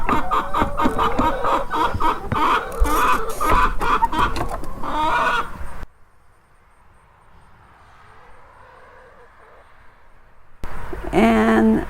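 French hens with feathered feet cluck and chatter close by in a busy stream, fall nearly quiet with a faint low hum for several seconds, then resume clucking.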